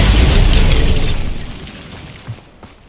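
The Bombarda spell in the Hogwarts Legacy video game goes off as a single loud, close blast with heavy low rumble and debris hiss, fading over about two seconds with a couple of small after-knocks.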